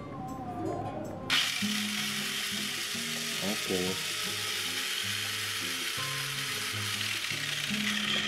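A Tamiya Rise Emperor mini 4WD car fitted with a new dynamo motor runs with a steady, high, hissing whir. The whir starts abruptly after a quiet opening and holds loud and constant to the end, with tonal sounds underneath.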